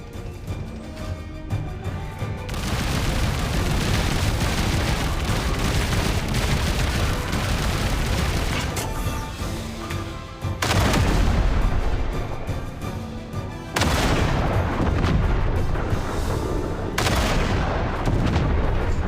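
Sustained gunfire and booming blasts in the video game Duet Night Abyss roar loudly in long continuous stretches, broken by a few abrupt cuts and short gaps before the barrage resumes.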